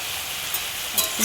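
Malabar spinach leaves fry and are stirred in a hot pan with spices, giving a close, continuous sizzle with a couple of brief stirring scrapes near the end.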